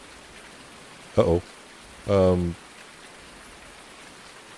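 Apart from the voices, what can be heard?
rain falling in the video game Farm Sim 19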